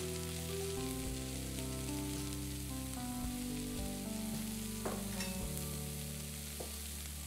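Steady, dense sizzling as carrots and turnip fry with sweated onions in a cast iron pot for Irish pork stew, a continuous crackling hiss with brief stirring clanks, no voice.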